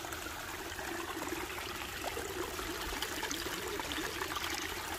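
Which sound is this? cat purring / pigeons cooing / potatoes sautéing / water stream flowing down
water stream flowing down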